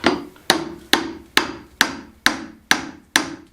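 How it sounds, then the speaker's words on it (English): A bolster chisel is hammered down around a log in a steady series of eight sharp, ringing metal strikes about half a second apart, close and loud with no talking. "I'm just going to bolster chisel it down, working my way around."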